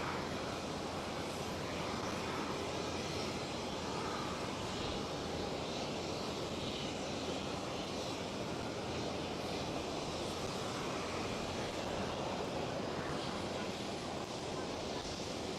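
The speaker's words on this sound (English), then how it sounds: "the Dutch Dakota DC-3 arriving back at Schiphol Amsterdam Airport" A Dutch Dakota DC-3 propeller airliner arriving at Schiphol Amsterdam Airport, a steady broadband engine drone with wind-like rush running unbroken and fairly loud throughout.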